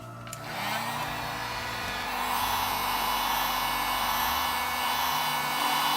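A heat gun whirs into a steady blowing roar that strengthens midway, warming the permaseal headlight of a 2014-or-later GMC Sierra, with no voices present.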